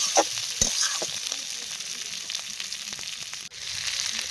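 Potatoes with peas and beans stirred as they fry in a pan, a continuous close sizzle with soft scraping strokes from a spatula running through it, and no voices.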